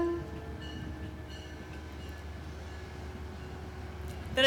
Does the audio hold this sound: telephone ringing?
no